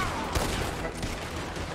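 Gunfire in the video game Red Dead Redemption 2, a short dense burst of shots at moderate level with no talk.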